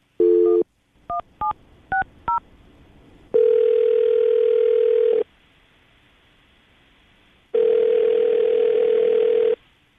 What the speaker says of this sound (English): we'll call her right now, see if we can get her on the phone.